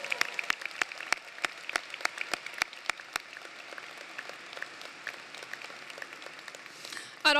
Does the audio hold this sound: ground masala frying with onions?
no